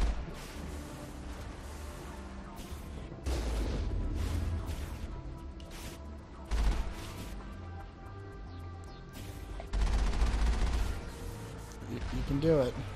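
Gunfire in the video game Mass Effect, several heavy bursts of shots and booming impacts spread across the stretch, loud and close, with someone talking between and over them.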